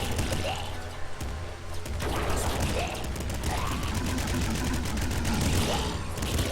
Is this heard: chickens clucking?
no